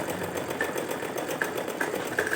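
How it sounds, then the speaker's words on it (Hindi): A sewing machine runs a long seam through cloth at home, a quiet rapid regular clatter of stitching that continues evenly, with no talking. "लंबी सिलाई कर दी है मैंने"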